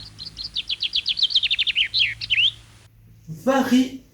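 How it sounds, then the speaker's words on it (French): A bright, rapid trilling common chaffinch song phrase, from the Causses region of France, descending and ending in a flourish, loud and close, followed after a brief pause by a short burst of a person's voice. "le chant du pinson des Cahors"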